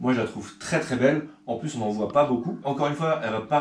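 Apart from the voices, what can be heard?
No everyday noises stand out.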